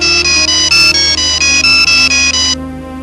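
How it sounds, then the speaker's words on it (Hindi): A mobile phone rings with an incoming call, playing a loud electronic ringtone of repeated bright melodic pulses for about two and a half seconds before stopping abruptly. "अम्मी का फोन है"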